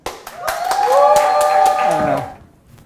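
Audience clapping and cheering to welcome a guest named Jesse Proudman on stage at an evening event, a burst of applause rising quickly, holding steady for about two seconds, then fading, with a voice rising over the crowd.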